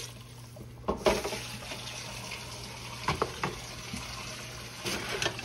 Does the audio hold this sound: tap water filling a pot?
yes